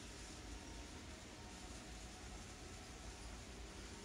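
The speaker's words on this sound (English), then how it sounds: "The train, bruh." A train passes as a steady, broad rumble with wide hiss, continuous and fairly faint at a distance, with no voices.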